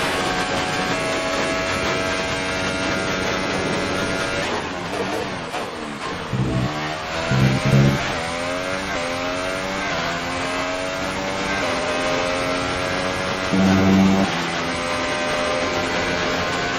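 Formula 1 car engine in the F1 2018 racing game on an in-lap at the Russia circuit, a loud sustained high-revving whine with rising and falling pitch sweeps as it shifts gears and brakes, no talk.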